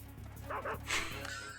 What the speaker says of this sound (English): This dog is going to bite the shit out of me.